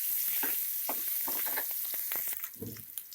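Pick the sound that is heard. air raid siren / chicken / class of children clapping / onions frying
onions frying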